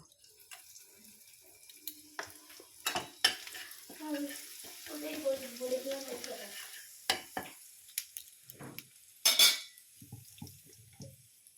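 Nigella seeds and a pinch of asafoetida fry in hot oil for a lentil kachori filling, a soft crackling sizzle with occasional stirring scrapes and a few sharper clinks, fairly quiet and close with no talking.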